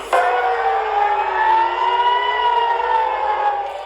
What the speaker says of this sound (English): Air raid sirens blast as people in Israel are warned to take cover in bomb shelters.